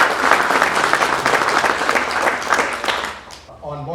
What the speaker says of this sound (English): I hand a round of applause for them,